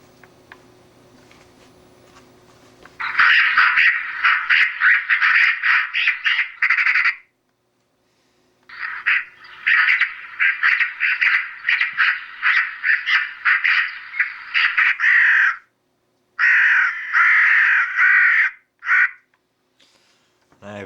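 An electronic caller's loudspeaker plays recorded crow calls in loud, harsh bursts of cawing, several seconds each, separated by brief silences, after a quiet start with faint background hum.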